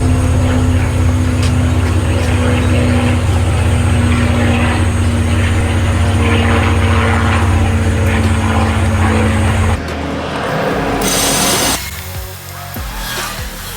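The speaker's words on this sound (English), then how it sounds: "This little compressor came in clutch, but right now the tire is now filled up with air" A small air compressor inflating a car tire runs as a loud, steady, close mechanical drone with a constant hum, then cuts out abruptly, leaving brief rustling and handling noises.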